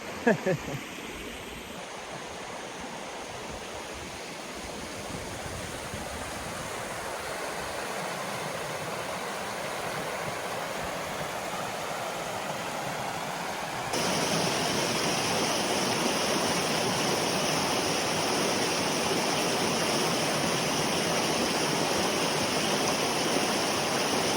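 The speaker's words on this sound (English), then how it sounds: "The creek narrows out" Stanley Creek in the Rich Mountain Wilderness rushing through a narrow stretch, a close, continuous roar of moving water that jumps noticeably louder about halfway through and stays strong to the end.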